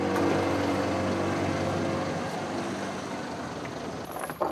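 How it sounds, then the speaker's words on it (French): A ferry's motor drones loud and steady as the boat docks on the Rio Beni in Bolivia, a continuous low rumble that eases slightly toward the end. "Dès que le ferry accoste,"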